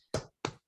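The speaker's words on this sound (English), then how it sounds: "Everybody, let's give a virtual hand clap" Hands clap twice, close and crisp, with a short gap between the claps and the start of a third right at the end.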